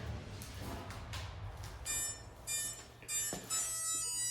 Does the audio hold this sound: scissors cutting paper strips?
no